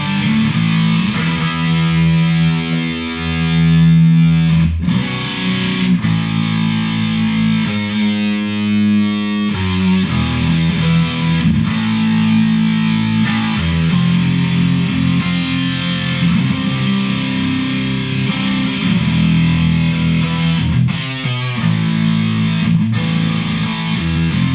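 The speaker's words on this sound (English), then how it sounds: "you want to hear the distortion up a little more?" An electric guitar plays through a Boss DS-1 distortion pedal fitted with a Keeley mod, giving loud, sustained, heavily overdriven chords and riffs that run continuously with brief pauses between phrases.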